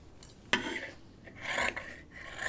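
Scissors or a blade scraping and cutting through sewn fabric while the seams are trimmed, heard as close rasping strokes with one sharp snip, no voices.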